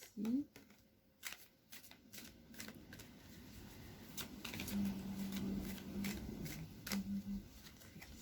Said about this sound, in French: Elle glisse très bien ces cartes